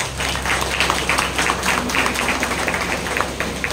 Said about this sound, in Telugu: కాబట్టి అందరం కలిసి చప్పట్లు కొడుతూ సిస్టర్స్ ని అభినందన తెలియచేద్దాం.